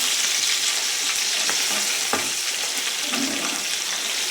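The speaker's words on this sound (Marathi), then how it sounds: "चांगली परतवून घेऊया" Green chillies and spices sauté in hot oil in a pan, giving a loud, steady sizzle and crackle throughout, with occasional scraping stirs and small pops close by.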